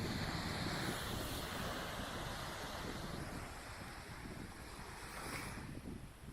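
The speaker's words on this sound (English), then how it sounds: "Let's check out the beach behind me." Ocean waves wash onto a beach in El Nido in a continuous soft roar of surf, with gusts of wind buffeting the microphone and a faint swell in the wash near the end.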